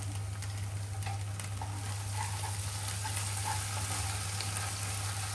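Green chilies fry in a pan with a steady, soft sizzle, a low constant hum beneath and occasional faint clinks of stirring.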